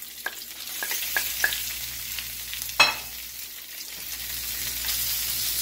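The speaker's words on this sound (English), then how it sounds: "Stir fry the beef." Steady crackling sizzle of cold beef stir-frying in a hot pan with jalapeno, with a few sharp clinks and one loud clatter of utensils against the pan.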